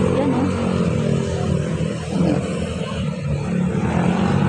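Motorcycles and other vehicles pass along a scenic road just outside a city, their engines forming a continuous nearby drone that swells around the middle as one rider passes close.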